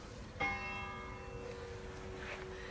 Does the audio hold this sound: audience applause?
no